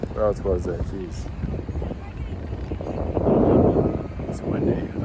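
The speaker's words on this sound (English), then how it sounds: "It's windy." Outdoor wind buffeting a handheld microphone, a low rumbling roar that grows stronger in the second half, with a person talking over it at first and birds chirping faintly.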